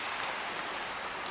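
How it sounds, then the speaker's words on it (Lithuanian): Rain falls steadily near Neries Regional Park in Lithuania, a soft, even patter that stays faint and constant throughout with no voices. "O, toliau lyja"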